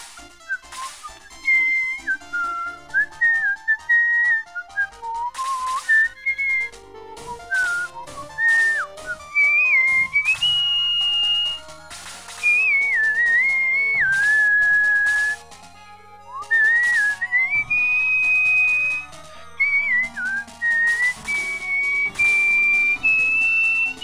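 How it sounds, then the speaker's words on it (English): A person whistles a wandering melody along to the music of Shining Force 2, a role-playing video game, loud and continuous over the game soundtrack with only short breaks. "zoning out and just humming along and whistling along to the music"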